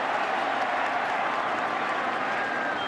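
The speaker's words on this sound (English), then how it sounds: "We're hearing from this Orange Bowl crowd for the first time" Orange Bowl stadium crowd at a Miami Hurricanes versus NC State Wolfpack college football game, a steady, distant roar of many voices holding at an even level throughout, with no talk on top.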